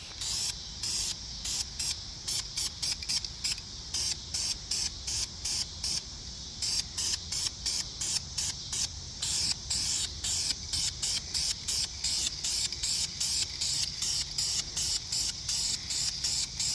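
Blue aerosol spray paint hisses onto the engine block of a 1969 Lincoln Continental in quick, rhythmic bursts with brief gaps between them, close and moderately loud, with no talking.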